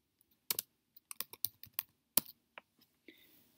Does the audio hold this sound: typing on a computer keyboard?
yes